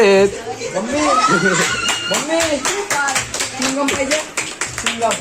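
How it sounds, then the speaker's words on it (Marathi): A group claps steadily together at a birthday celebration over lively chatter and children's voices, with some laughter mixed in. "टाळ्या कशाबद्दल वाजवल्या"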